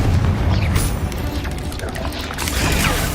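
Confringo fire spell blasts in the Hogwarts Legacy game, dense booming explosions and crashing impacts that fill the whole moment with loud, continuous rumble.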